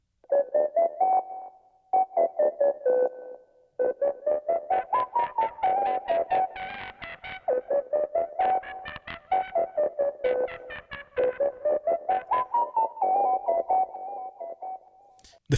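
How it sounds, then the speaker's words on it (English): A synth lead runs through Kilohearts Snap Heap delay and phase distortion, playing choppy, rapid pulsed notes in a wandering melody with bright, buzzy overtones and short gaps between phrases, with no voice over it. "The phase distortion is just working on that delay and giving it a completely different sound."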